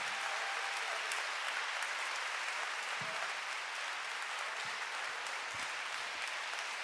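Applause from a concert audience in a live performance hall, steady dense clapping that holds at an even level throughout with no voices.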